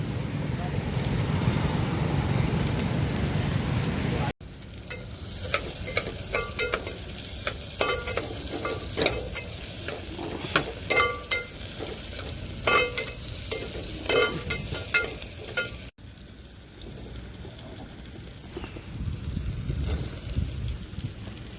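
Chicken fries and gets stirred in a pan inside a truck on a road trip through Rajasthan, with busy sizzling, clattering spatula scrapes and wind noise, and people talking over parts of it.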